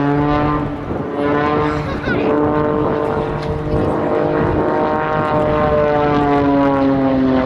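A Pitts Special aerobatic biplane's Lycoming piston engine drones loudly and steadily at an air show at Duxford, its pitch shifting slightly as the aircraft maneuvers close by.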